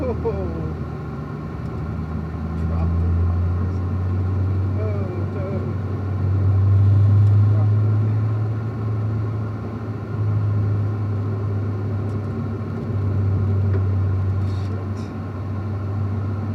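Race car lapping a road course at Ron Fellows Springhill in Las Vegas, its engine droning steadily and rising and falling as it runs, with a moment where the tires drop off the track edge.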